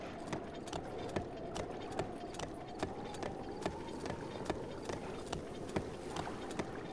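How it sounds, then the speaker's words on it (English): Horse hooves gallop in The Legend of Zelda: Breath of the Wild, a steady, evenly spaced clip-clop over a constant droning game background, with no talking. "I'm gonna bring my horse as far as I can"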